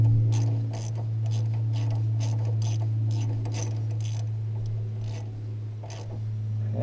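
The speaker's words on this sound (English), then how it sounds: "Oh, my ratchet's having trouble here." A ratchet wrench tightens a Schrader valve on a car air-conditioning line, sending out a series of quick, close clicking bursts over a steady low hum.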